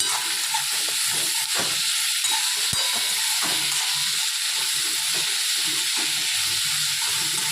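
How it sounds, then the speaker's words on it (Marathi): Onion and tomato sauté in a pan for chutney, giving a steady close sizzling hiss broken by scraping stirs at irregular intervals, with no voices. "कांदा दोन मिनटं परतून घेतलं आणि टमाटे टाकलं मिरी चांगलं परतून घ्यायचं"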